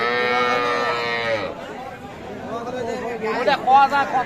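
At a busy cattle market, a cow with her calf gives a long, loud, deep moo at close range, followed by a shorter call, while people chatter nearby.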